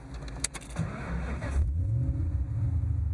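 Clicks and a cranking starter, then a 1996 Mustang Cobra convertible engine catches and settles into a deep, throaty idle rumble through its exhaust, close by.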